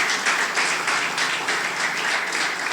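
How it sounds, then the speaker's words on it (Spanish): A church congregation applauds together in a steady, dense burst of clapping that fills the space at even loudness throughout. "Dele un aplauso a papá en esta hora"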